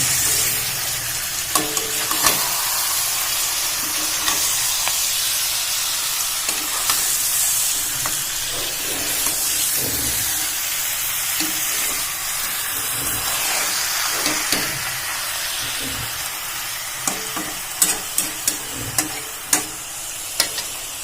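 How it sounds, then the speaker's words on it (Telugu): Chicken pieces are tossed and stirred up and down in a hot frying pan, giving a continuous loud sizzle with steamy hiss and scattered spatula scrapes that grow more frequent toward the end. "చికెన్ వేసి పైకి కింద కలపండి"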